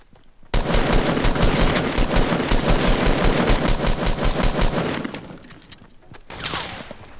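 Rapid automatic gunfire from a Fortnite match, a loud sustained burst of about four and a half seconds with evenly spaced shots, followed by a quieter pause and a brief closing sound.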